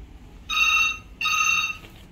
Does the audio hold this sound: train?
no